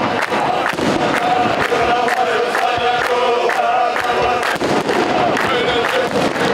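Fireworks burst over a night-time zikr gathering in a dense, continuous crackling barrage, with a crowd's voices blending into the steady roar.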